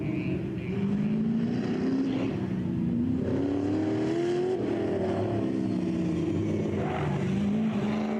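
A muscle car climbs a mountain hill-climb course, its engine roaring continuously and rising through clean upshifts before dropping on a downshift for a corner, loud and sustained.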